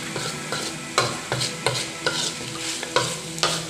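A spatula scrapes and tosses pad kaprao, holy basil stir-fry, in a hot pan, with rapid rhythmic metallic strokes over a constant close sizzle.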